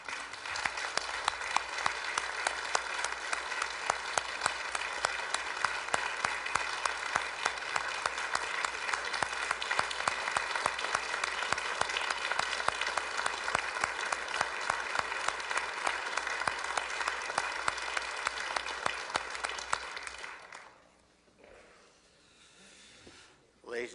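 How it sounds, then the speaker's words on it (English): Audience applause in a municipal council chamber, a long, loud and steady burst of many people clapping with a rhythmic pulse that stops abruptly near the end, leaving faint room noise. "we don't usually allow applause or anything else in our chambers, but I think tonight it's a notable exception"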